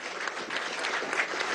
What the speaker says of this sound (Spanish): Petare aplaude a La Vega.